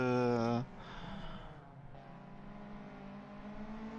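Race car engine at a Nogaro circuit during a Twin Cup race, loud revving at first, then dropping and droning steadily on, distant over the track.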